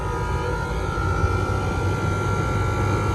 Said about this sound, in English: That compressor sounds terrible.